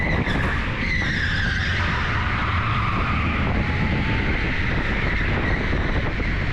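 Electric go-kart sliding on a slippery indoor track, a continuous loud skidding tire squeal with high-torque whine, close and steady, with no talk.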